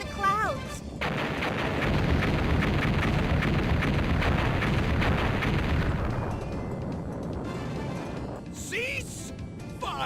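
Rapid in-game gunfire from the video game Mega Man Legends, a loud continuous barrage of shots and blasts that holds for several seconds before easing off, with brief game voice sounds near the end.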